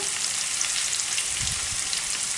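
Peppers fry in a hot pan with a steady, dense sizzle and faint crackle that holds even throughout, and nobody speaks.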